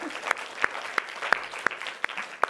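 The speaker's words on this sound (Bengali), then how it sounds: "জোরে হাততালি।" A group of children at a school event claps loudly in a steady, even rhythm of sharp hand claps, with no voices over it.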